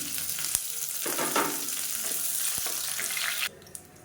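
Curry leaves and a little mint crackle and sizzle in hot oil in a pan, a close, busy frying hiss with small pops that drops away near the end.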